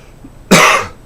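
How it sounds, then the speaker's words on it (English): A single short, harsh throat clearing, close and loud, lasting about half a second with no talk around it. "I do have to clear my throat every now and then"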